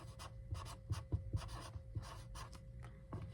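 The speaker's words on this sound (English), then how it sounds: "And then I'm going to write caring" Pen or marker writing words on paper in short scratchy strokes with brief pauses between them, close and fairly quiet, and no speech.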